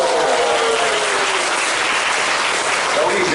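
Dense, steady applause from a congregation at a church commemorative worship service, continuous clapping at even loudness across the whole stretch, with a faint voice beneath it at the start.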